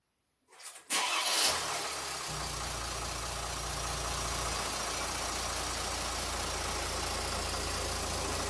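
A Mercedes W213 with the OM642 diesel engine starts after a brief moment of quiet, then settles into a steady, close, even idle that runs to the end with no shutdown.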